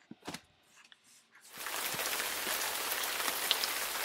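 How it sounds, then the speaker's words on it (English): Heavy rain outside, a dense steady hiss of drops pouring down that swells in after a few soft knocks and shuffles, continuing loud and unbroken. "I don't know what you see, but I see lots of rain."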